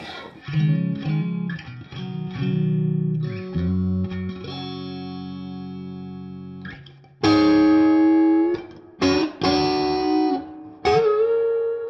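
Electric guitar through a PRS DGT 15 amp, chords and single notes ringing out with a long, washy reverb tail, then louder, brighter strums ending in sustained decays.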